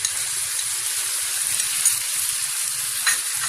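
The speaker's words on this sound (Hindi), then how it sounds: "अब लहसुन अदरक को मैं इतना फ्राई करूंगी कि इसकी खुशबू आना शुरू हो जाए" Garlic and ginger fry with onions in a hot pan, a steady close crackling sizzle that holds evenly throughout with a couple of slightly sharper pops and no voices.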